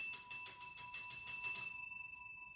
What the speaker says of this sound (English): this might be what his doorbell sounds like